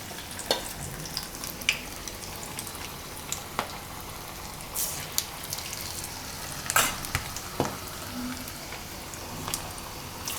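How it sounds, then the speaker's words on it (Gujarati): Parwal (pointed gourd) kofta balls fry in hot oil in a batch, giving a steady close sizzle with scattered crackles and pops, and no voices. "તો એક ફેરામાં જેટલા આવે એટલા તળી લેવાના."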